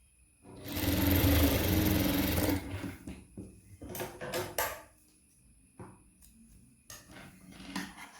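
A sewing machine stitches the side seams of churidar pants in a loud, close burst of about two seconds, followed by softer intermittent clicks and handling of fabric.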